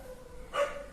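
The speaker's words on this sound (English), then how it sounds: "They won't stop barking." A single short dog bark, fairly faint and slightly distant, rising briefly over a quiet background hum.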